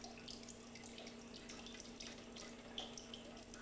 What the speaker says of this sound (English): We'll let that drip out.